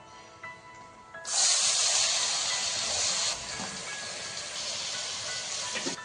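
Chopped onion hits hot butter in a pan already seasoned with cumin, for pav bhaji, setting off a sudden loud, steady sizzle that holds strong and then eases slightly while continuing to crackle.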